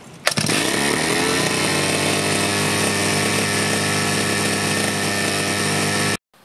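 A two-stroke brush cutter engine catches after a brief pull and roars up at once, then runs loud and close at a steady buzzing idle for about six seconds before cutting off abruptly.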